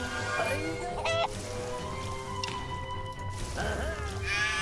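A chicken in Craft The World clucks in a few short bursts near the start and again toward the end, set against low game music and ambient hiss, with no talk.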